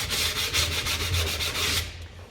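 A drum's bearing edge is sanded by hand with 120-grit sandpaper, giving a close, steady scratchy rub in quick repeated back-and-forth strokes, alone without talk.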